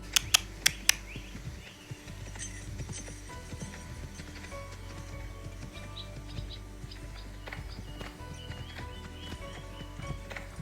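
A horse on a practice ride clip-clops with a brisk series of sharp hoof strikes at the start, then softer, uneven hoof falls and faint thuds continue, with occasional distant bird chirps.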